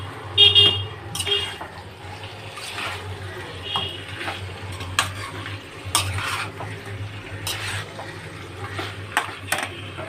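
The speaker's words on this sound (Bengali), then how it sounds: "পনিরটাকে দিয়েও ভালো করে একটু আমি মেরে নেবো মশলাগুলোকে ভালো করে মাখিয়ে নেব" Paneer and spices stirred in a pan, with intermittent scraping and clinking of the utensil against the pan over a low background hum, a voice occasionally heard.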